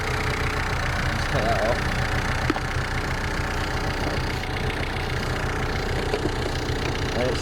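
A Ford Fiesta 1.6 TDCi diesel idles steadily up close, a constant rough rumble with a faint clatter, while someone speaks briefly over it.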